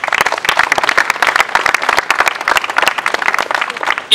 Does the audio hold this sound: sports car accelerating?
no